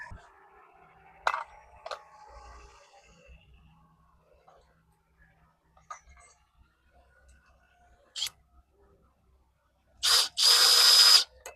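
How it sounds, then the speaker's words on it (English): A power drill drives the original screws back into a fence gate handle during a sagging-gate repair, with a few short bursts early on and a louder sustained whir near the end. "Now we'll put the handle back on with the screws, the original screws we took out."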